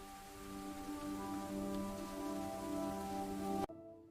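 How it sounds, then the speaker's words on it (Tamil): First raindrops fall on the soil of village fields, a soft scattered patter over sustained tonal music, which cuts off abruptly near the end. "முதல் மழைத்துளி மண்ணில் விழுகிறது"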